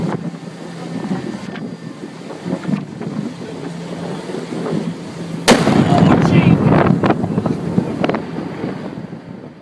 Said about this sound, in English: when they start to erupt, some of them can produce very loud sounds